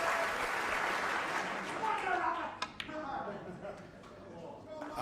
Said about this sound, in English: And this Crucible crowd give him a standing ovation.